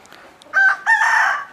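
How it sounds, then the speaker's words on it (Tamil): A rooster crows loudly and close by in a poultry shed, two strong bursts with faint clucking from the chickens before them. "இந்த செட்டில் 9 கோழிகள் இருக்குது."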